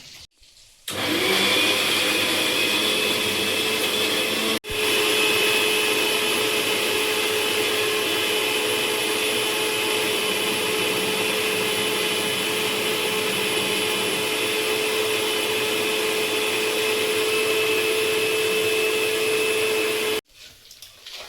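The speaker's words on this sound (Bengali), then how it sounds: "আমি মশলাটা মিক্সারে দিয়ে আনবো" Electric mixer grinder whirring steadily as it grinds spice paste in a home kitchen while chicken curry is being cooked, a loud continuous motor drone lasting about twenty seconds with one brief stop near the start.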